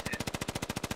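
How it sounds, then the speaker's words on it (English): Rapid automatic gunfire from the military shooter game Squad, a steady burst of about a dozen evenly spaced shots, loud and close, with no talk over it. "the gunshots are coming in. You can hear him firing."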